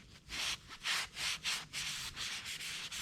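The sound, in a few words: scrubbing swingarm corrosion with Scotch-Brite pad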